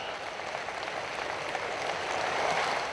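Dense, steady applause from an audience at a Pakistani event where the Prime Minister is honouring a daughter of Balochistan. The clapping is a continuous, hissing wash of many hands that rises slightly toward the end, with no voices heard.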